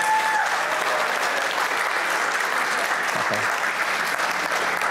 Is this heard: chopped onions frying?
no